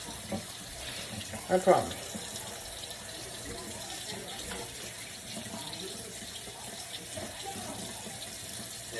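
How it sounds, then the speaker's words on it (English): Hot tap water runs steadily into a kitchen sink while hands are rinsed and rubbed beneath the stream, a close, continuous splashing with a brief louder burst early on and a short spoken remark. "I don't like washing my hands in cold water unless I have to, because there is no hot water"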